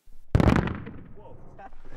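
An improvised explosive device charge detonates in a single sharp, heavy blast at a training range, followed by a rolling, decaying rumble and faint debris noise over about a second and a half.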